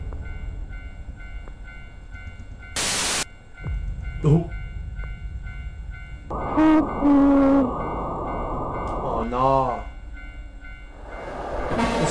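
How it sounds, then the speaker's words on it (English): A skull train rumbles past in the horror game Tsugunohi, with a steady low rolling drone, a piercing horn blast, and bell-like dings, while a player exclaims briefly over the game sounds. "The skull train's back."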